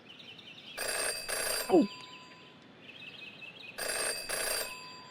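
Telephone ringing in the detective adventure game Jenny LeClue Detectivu, two bursts of bright electronic ringing, a pause, then two more, moderately loud over a quiet game backdrop, with a single brief spoken exclamation in between.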